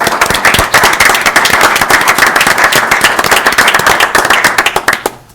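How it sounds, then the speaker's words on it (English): Loud round of applause from the audience at a township meeting honoring the Richland fire department, dense sharp clapping sustained for several seconds before tapering off at the end. "Can we please get a big round of applause for Richland Fire?"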